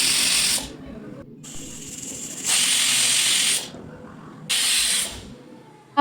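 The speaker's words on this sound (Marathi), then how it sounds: "मध्यम गॅसवरती कुकरच्या मी अगदी 3 शिट्ट्या काढून घेणार आहे" Pressure cooker whistling on medium gas heat while cooking lapshi, three loud hissing steam bursts separated by quieter gaps, close and clear.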